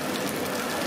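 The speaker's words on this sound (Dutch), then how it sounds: "maar het is echt heel erg aan het regen" Heavy rain pours at a train station, a dense, steady, loud hiss of falling water with no pauses and no voices.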